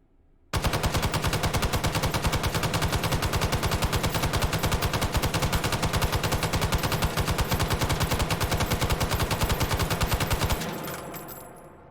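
An M60 light machine gun fired from its bipod in the VR shooter H3VR: one long, steady, rapid automatic burst of about ten seconds, loud and close, then a short fading echo.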